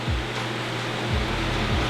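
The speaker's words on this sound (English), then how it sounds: "I've got 2 fans going, so excuse the noise." Steady broadband whooshing of two electric fans running close by in hot weather, with a constant low hum and occasional low thumps.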